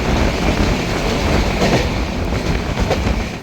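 A passenger train crossing the Torsa river bridge on the run toward Hasimara, a loud, continuous rumble and rattle of wheels and carriages with faint clickety-clack, heard from on board.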